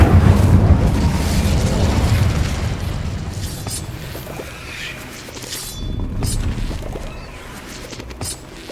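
A fiery magic spell effect in a Harry Potter video game, a loud rumbling burst of roaring flame that slowly fades into a softer crackling tail, with a second, smaller flare later.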